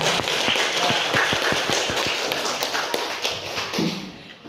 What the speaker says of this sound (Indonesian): Oh, beri tepuk tangan dong, bagus